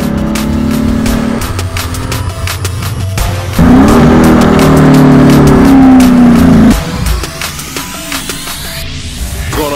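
A 2017 Dodge Challenger Scat Pack drives steadily with a loud, continuous engine drone that swells into a stronger, rising rev pull midway, then settles back to cruising; no talk.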